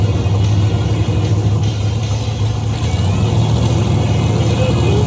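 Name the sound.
street race cars idling before racing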